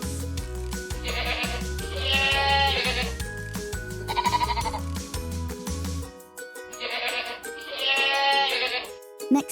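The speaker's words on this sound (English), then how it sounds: "Next up, we have sheep." Sheep bleat in two clear wavering calls over a light musical accompaniment that drops out midway, the bleats close and prominent with no speech.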